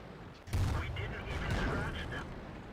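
A Super Pershing tank gun fires once in World of Tanks: a single heavy close blast followed by a sustained rumbling tail and battle noise.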